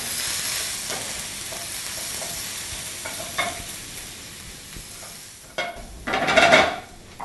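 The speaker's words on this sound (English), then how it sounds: "I'm just going to continue to cook this until the onions start to soften a little bit." Onions cook in a pan over lowered heat for a Latin ratatouille, giving a soft steady sizzle close by, broken by a few stirring scrapes and a louder clatter of the spoon toward the end.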